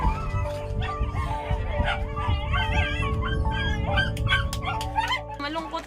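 Several dogs whimper and yip in high, wavering whines, with occasional barks, close and overlapping throughout.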